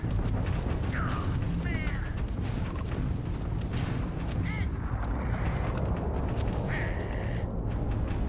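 Gunfire and explosions in the space-station combat of Starfield, a dense loud rumble of blasts and mechanical clatter with whistling tones, under a voice.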